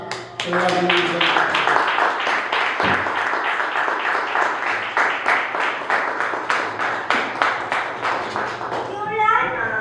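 Congregation at a Sunday Pentecostal church service clapping hands in a steady, loud rhythmic beat for nearly ten seconds, with singing or voices carrying over the claps throughout.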